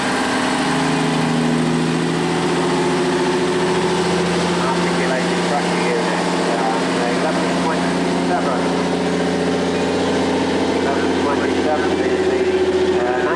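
A Volvo F88 six-wheel truck from 1971 idles steadily at an outdoor vintage vehicle rally, its low engine drone continuous and loud throughout, with voices talking over it.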